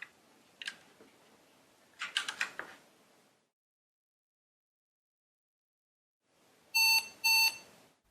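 Keyboard clicks and rapid mechanical clatter, a few seconds of silence, then two short, loud electronic POST beeps from an IBM PC/XT speaker after a warm restart.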